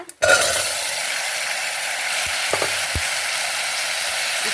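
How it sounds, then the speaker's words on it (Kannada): Pumpkin pieces are tipped into a hot tempering of chilli and leaves for temple-style sambar: a sharp splash at the start gives way to a steady, close sizzle, with a few light clicks and knocks. "ಈಗ ಒಗ್ಗರಣೆಗೆ ನಾವು ಮಾಡಿ ಇಟ್ಕೊಂಡು ಹೋಳು ಹಾಕೊಂಬ."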